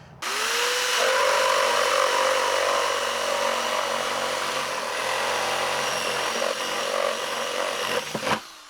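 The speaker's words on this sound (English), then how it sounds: "now we've got our jigsaw plugged in. We're going to go ahead and get into our pilot hole and carefully and slowly cut around the inner edge of this line." An electric jigsaw cuts a circular hole for a homemade chicken feeder, buzzing loudly and steadily for about eight seconds after starting up, then stopping with a few clunks at the end.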